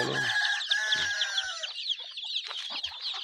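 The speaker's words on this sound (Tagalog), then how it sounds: "Ang dami mga sisiw mga kabrad" Hens clucking and cheeping chicks close by on a farm, one drawn-out cackle followed by a cluster of busy clucks and peeps, with no human voices.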